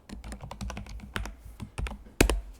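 Typing on a computer keyboard while entering a git command, with irregular bursts of crisp, close key clicks and a few louder strikes near the end, no voices.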